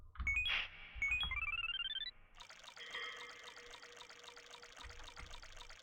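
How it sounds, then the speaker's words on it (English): Water sounds in the video game Yume Nikki: rising chiming tones give way to a steady bubbling, pouring texture, fairly quiet and alone with no talk. "We're in water."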